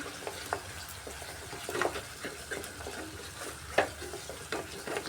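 Masala spices sautéing in a pan, a busy crackling sizzle broken by repeated scraping strokes of a spatula at an uneven pace, close and fairly loud.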